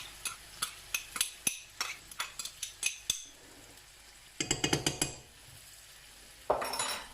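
Endives and shallots stirred in a pan, a spoon striking and scraping the pan in quick regular strokes with brief pauses and a faint sizzle underneath, fairly close and alone.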